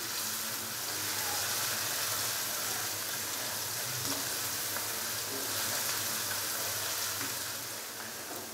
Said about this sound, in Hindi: लहसुन के पेस्ट को अच्छे से मिक्स करेंगे और हल्का सा इसको फ्राई कर लेंगे।